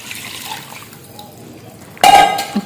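Lukewarm water with half a spoon of salt poured over cabbage in a home kitchen, a short loud splash near the end after quiet room tone.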